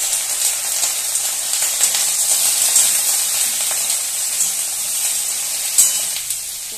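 Boiled potatoes tumble into a frying pan of okra, setting off a loud, steady sizzle of hot oil that hisses continuously with small crackles and stirring scrapes, close up and without talk.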